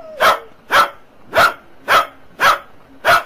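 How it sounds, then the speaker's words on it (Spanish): A dog barks in a Loquendo-voiced GTA San Andreas movie, six evenly spaced barks about half a second apart, loud and close with no talk over them. "No me afectan tus estúpidos ladridos, Trotsky."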